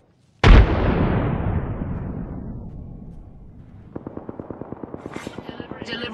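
In Apex Legends, a frag grenade goes off with a sudden loud blast that rumbles and fades over several seconds, followed by a steady run of rapid gunfire shots.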